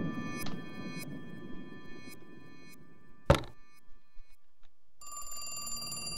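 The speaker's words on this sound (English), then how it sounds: "Phone is ringing again." A telephone rings in The Cat Lady video game, with several faint spaced electronic rings, a sharp thunk midway, then a clearer tonal ring at the end, all over a low murky ambience.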